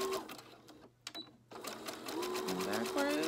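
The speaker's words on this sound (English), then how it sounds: "I'm literally just gonna stitch this on. with an inch of zigzag forwards and backwards." Sewing machine stitching a short zigzag forwards and backwards to attach fabric for a medicine bag, a quick rapid needle rattle after a brief pause, heard close and alongside someone talking.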